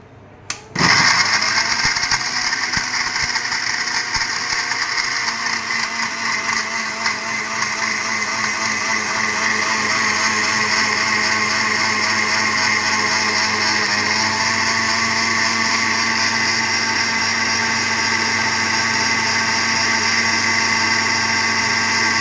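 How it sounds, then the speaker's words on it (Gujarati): A mixer grinder whirs loudly and steadily for the whole stretch after a brief start, grinding churma for laddus, its motor drone holding a constant pitch with no voices. "મિક્સરમાં મેં કીધું કાઢી લઉં"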